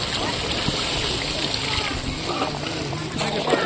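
Water is poured into a simmering gravy of potato and pointed gourd, giving a continuous splashing, sloshing rush throughout, with a voice speaking over it.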